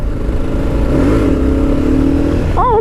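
A 2015 Kawasaki KLR 650 dual-sport motorcycle's engine drones steadily up close, its pitch rising as it accelerates through a sustained pull, loud and continuous without any talk.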